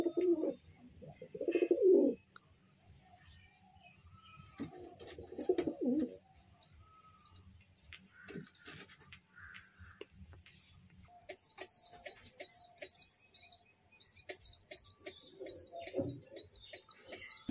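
Pet pigeons newly brought home from a pets market coo in a few deep, throaty bursts early on, then give repeated quick high chirps later, close and fairly quiet against a calm background.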